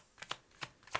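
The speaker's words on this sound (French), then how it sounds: "Allez, je vous tire une petite carte ici." Tarot-style cards being drawn and handled from a deck during a reading, three or four quick, soft papery flicks and slides, close and quiet, with no talk.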